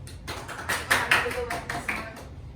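Hand claps from a classroom clap-and-be-silent game, a short run of sharp, fairly close claps in an uneven rhythm over a low background hum.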